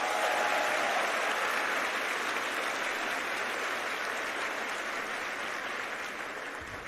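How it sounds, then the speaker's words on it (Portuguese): A congregation at a worship programme led by Frei Gilson breaks into dense, sustained applause, a thick wash of many hands that holds strong and slowly tapers off toward the end. "Aplauda esse Deus maravilhoso"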